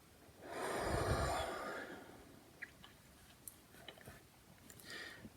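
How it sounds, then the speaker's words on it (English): A person takes a long, deep exhale, a broad airy breath out that swells and fades over about two seconds, close and fairly loud, followed by quiet room noise with a few small clicks. "Deep breath out."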